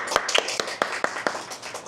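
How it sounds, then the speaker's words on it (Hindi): Students in a classroom clap several times, the sharp claps scattered and uneven rather than a sustained round, fairly close and unaccompanied. "बढ़िया, ताली बजा दो।"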